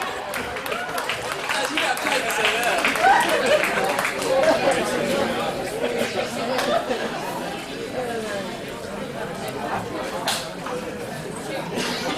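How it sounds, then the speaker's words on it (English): A round of applause for a trophy winner at a 4-H/FFA steer and market hog show, with steady clapping mixed into loud crowd chatter that fills the whole stretch at an even level. "So let's give him a round of applause."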